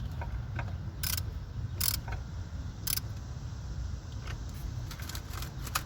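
A ratchet wrench tightens a battery terminal on a 2000 Honda Civic, giving a few sharp, close metallic clicks in separate bursts over a steady low background hum.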